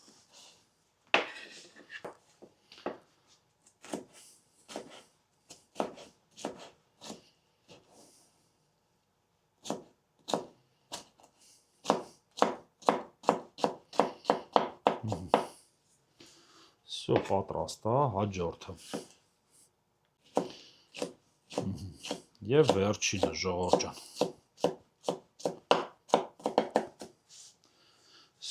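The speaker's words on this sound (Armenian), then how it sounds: "մեզի անհրաժեշտ է կտրատենք գույնավոր բիբարները։ Պետք է որ իրան մանր կտրատենք։" A knife chops colored bell peppers finely on a board in a home kitchen, in quick bursts of crisp, rhythmic cuts with short pauses between batches, while a person talks over the chopping.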